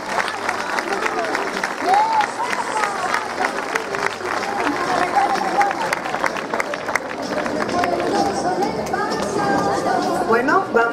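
Applause and cheering from a crowd at a fashion show, steady and fairly loud throughout, mixed with chatter and babble.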